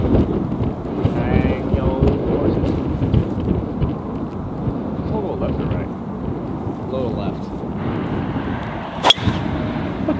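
Strong outdoor wind buffets the microphone in a constant low roar, with a brief sharp knock near the end.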